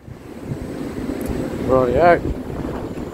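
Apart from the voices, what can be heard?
wind on beach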